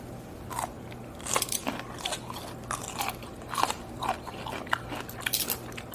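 Crisp crunching bites and chewing up close, a series of sharp cracks repeating irregularly over a low steady hum.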